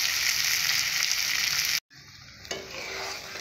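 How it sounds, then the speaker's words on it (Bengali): Banana flower curry sautés in a pan with a loud, dense sizzle and stirring that cuts out abruptly, then returns more quietly for the rest of the clip, with no voices. "এইভাবে কিছুক্ষণের জন্য কষে নেব।"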